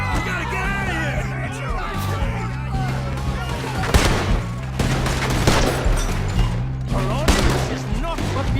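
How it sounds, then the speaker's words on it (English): Bursts of gunfire in Red Dead Redemption 2 crack out in a chaotic shootout, with loud scattered shots mixed with shouting and urgent voices talking over the fight. "There he is! Shoot that man!"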